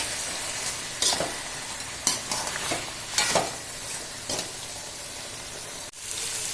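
Spiced masala for chicken curry fried in oil and turned over with a spoon, a steady sizzle broken by several scraping stirs, close and moderately loud, with no talking.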